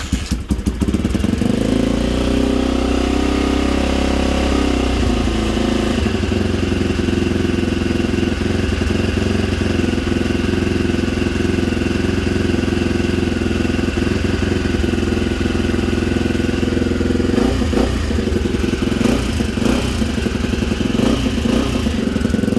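A Honda XL250R motorcycle, cold after years of sitting, idles with a steady low engine note and gives a few small revs near the end, loud and close throughout.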